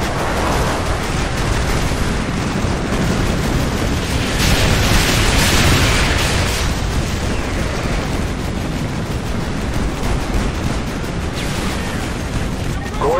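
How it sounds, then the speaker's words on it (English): Artillery strike explosions in Call of Duty Modern Warfare 2 on Xbox 360, a dense continuous barrage of booms and rumbling blasts filling the whole stretch, loud and sustained with a swell in the middle, voices faintly mixed in. "Artillery inbound."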